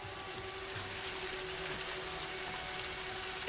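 Steady rain falls in the video game A Plague Tale: Innocence, a soft, even hiss of droplets with faint low tones beneath, quiet and unbroken throughout.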